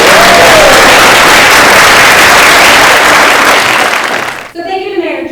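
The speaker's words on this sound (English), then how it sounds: "So, I'd like to ask for a round of applause." A full audience claps loudly and densely at the opening of a new screening room and media lab at the Old Greenbelt Theatre, sustained for several seconds before cutting off as a voice begins speaking.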